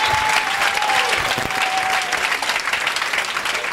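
A church congregation claps loudly and steadily in praise of the Lord, a dense crowd applause that holds for several seconds with a faint voice underneath.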